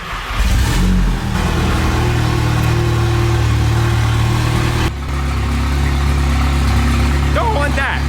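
A big-turbo GTI's custom exhaust runs with a deep, droning note, holding a steady idle-like rumble, then shifting tone partway through.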